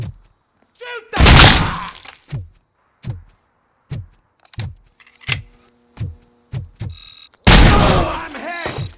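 Gunfire in RoboCop: Rogue City, a run of loud, sharp single shots spaced about half a second apart, with bigger crashing bursts near the start and the end.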